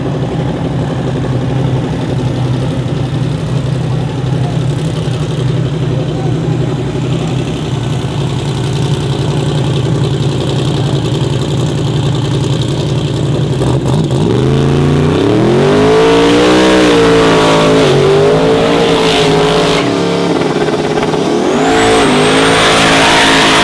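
A no-prep drag race car idles with a loud, lumpy burble for about fourteen seconds, then its engine is revved hard, the pitch sweeping up and down in sharp throttle blips close by.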